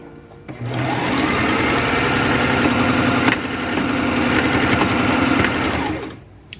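A sewing machine stitches fabric for a scrunchie in one steady, fast whirring run of about five seconds, close and loud, ramping up at the start and slowing to a stop with faint clicks.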